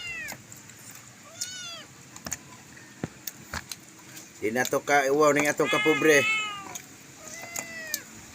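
A cat gives several short, rising meows, close to the microphone, before and after a stretch where a person talks loudly over it, with occasional small clicks and knocks in a home setting.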